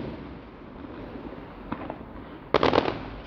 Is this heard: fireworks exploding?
yes